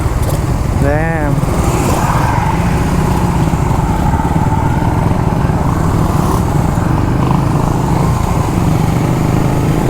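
Yamaha Sniper 150 and Suzuki Raider FI motorcycles ride past, their small engines droning steadily and loudly up close throughout, with wind rush and voices talking over the noise.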